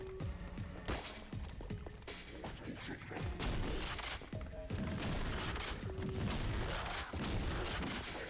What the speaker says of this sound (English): That shotgun feels real good, by the way.